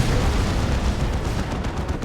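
A big cannon shot booms in the Dawn of War 2 strategy game during an Imperial Guard versus Chaos Space Marines match, a loud, dense rumble of artillery-like fire filling the whole moment with no pause.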